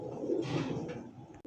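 A round-bodied pet pigeon at a pigeon sale gives a soft, low, rolling coo that rises and fades over about a second, close by and with no talking.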